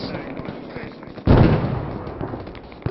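Gunfire breaks out in an Arma 3 firefight: one sharp, loud blast or burst stands out against a backdrop of faint, scattered distant pops, followed by a fading rumble.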